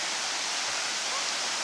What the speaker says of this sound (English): Here's a nice river.